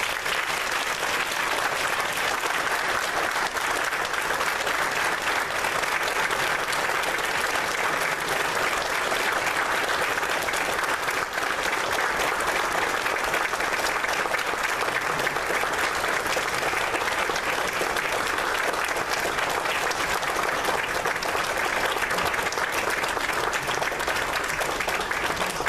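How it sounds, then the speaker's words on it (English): A crowd at a medal of valor ceremony honoring firefighters applauds for a long time, the clapping dense, loud and sustained without letup, with no voices standing out. "let's give these brave men a wonderful round of applause"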